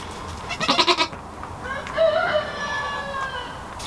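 A goat in labor during a kidding birth bleats in a loud pulsing burst of several quick calls, followed by a longer, quieter wavering bleat, with no talking.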